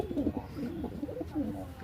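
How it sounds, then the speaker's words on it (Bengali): A pair of racing pigeons, a male and a female, coo softly in low, repeated throaty murmurs close by, with no other sounds. "এই আমার দুইটাই কিন্তু রেসার কবুতর"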